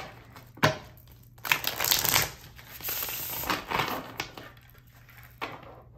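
A deck of tarot cards is shuffled close up, with crisp papery riffles and flicks in uneven bursts and no talking.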